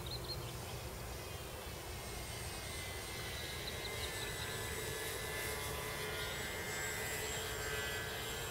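An RC model F6F Hellcat airplane cruises at about 60% throttle, its electric motor giving a steady, fairly distant drone that holds even throughout, with no talk.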